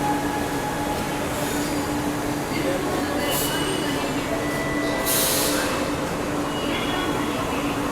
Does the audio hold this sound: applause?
no